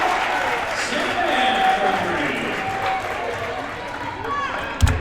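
High school boys' basketball game crowd cheering and clapping after a made shot in a gym, a noisy swell of cheers under an announcer's commentary, with sneaker squeaks and a sharp thud near the end.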